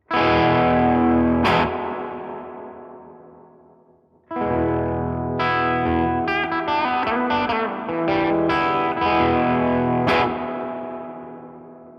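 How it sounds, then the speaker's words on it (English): A Rajani Amps VOD-50 amplifier with its real spring reverb at full plays distorted electric guitar chords that ring out and decay slowly over several seconds, then a new strummed passage with sharp attacks and long lingering tails. "Because this is a real spring reverb, we can get a lot of decay out of this."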